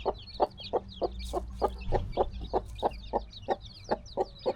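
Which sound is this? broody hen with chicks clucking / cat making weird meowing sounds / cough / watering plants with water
broody hen with chicks clucking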